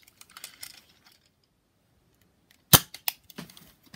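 A nerf gun fired indoors, giving a sharp, loud snap followed by a few quicker clicks and clatters after a stretch of near silence.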